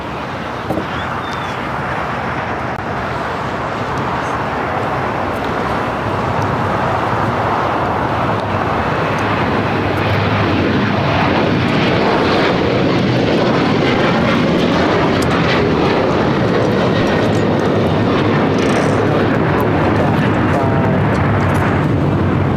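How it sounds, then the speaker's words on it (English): An Alaska Airlines Boeing 737-900ER takes off from the south side at LAX, a loud, steady jet roar that fills the scene for over twenty seconds, broad and sustained with slight swelling as it builds. "Next takeoff here on the south side. Alaska Airlines Flight 1412 heading to Liberia, 737-900 ER."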